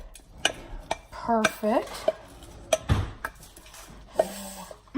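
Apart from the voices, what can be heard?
macaroni poured from pan into strainer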